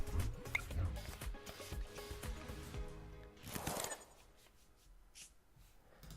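A card deck is shuffled in the Pokémon TCG Online video game, heard as a run of quick, soft rustling and clicking game effects that swell briefly and then fade, with no voices.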